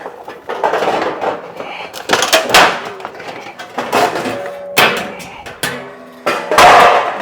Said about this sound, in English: there's how you rip a sheet of steel with a utility knife